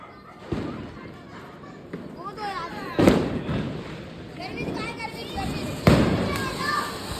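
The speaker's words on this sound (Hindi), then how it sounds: "स्काई शॉट छोड़ेंगे" Sky shot fireworks set off outdoors during Diwali give three sharp bangs spread a few seconds apart, heard over continuous excited chatter and voices of people nearby.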